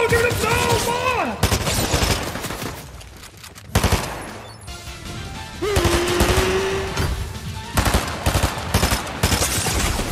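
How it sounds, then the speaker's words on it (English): Gunfire in an online shooter video game, sharp cracking shots scattered through the clip with bursts of rapid fire, heard beneath loud music-like tones and excited talking. "And I'm getting sniped."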